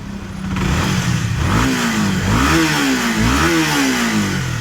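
A Honda CB150 motorcycle engine revs up and down in close, loud, continuous bursts, and the note wavers and stutters through the middle of the rev range.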